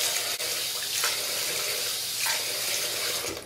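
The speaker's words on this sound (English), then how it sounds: "splash generous amounts of hot water on the face" Hot water runs from a tap and splashes onto a face at a bathroom sink as part of pre-shave preparation, a steady close rush with a few brief surges and no talk.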